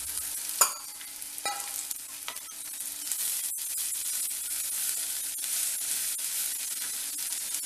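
Capsicum fries in a pan with a steady sizzle, broken by a few sharp scrapes and clinks as a utensil stirs it.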